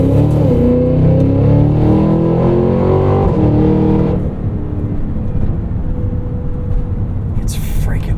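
A 2025 Cadillac Escalade V accelerates hard, its engine note rising in pitch steadily for about four seconds before settling into a lower, steady cruising drone with road noise, heard from inside the cabin.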